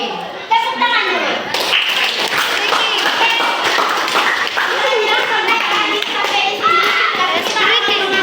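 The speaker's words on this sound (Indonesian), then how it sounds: "Tepuk tangan dulu." Children clap their hands together in a classroom, a dense burst of claps running throughout amid lively young voices and chatter.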